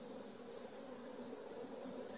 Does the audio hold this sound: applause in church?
no